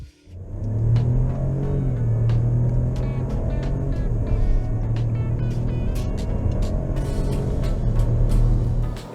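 A 2020 Buick Encore GX four-cylinder engine pulls under acceleration, a steady low growl with a rising drone heard from inside the cabin, continuous and moderately loud with no voices.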